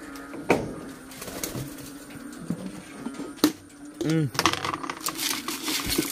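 Pigeons gathered and being fed, with scattered light pecking taps and a few soft coos, one clearer coo midway, while a person speaks intermittently nearby.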